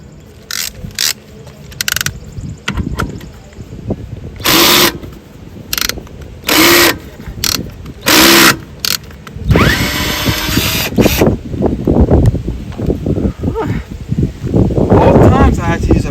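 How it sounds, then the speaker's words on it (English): A ratchet screwdriver backs out a screw holding a car's bumper cover during removal for a driver's side turn signal assembly replacement, making repeated loud mechanical bursts separated by short pauses, with someone talking between them. "using a ratchet screwdriver to get it off initially"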